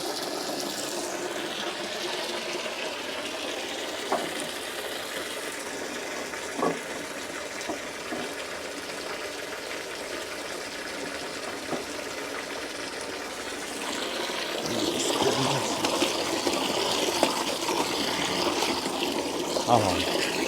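Laundry being rinsed by hand in clean water at home, with steady splashing and sloshing that grows louder and busier toward the end, over a continuous background wash of water noise.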